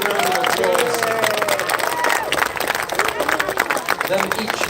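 Crowd applause at a horse show, sustained clapping and cheering from spectators filling the whole stretch at steady loudness.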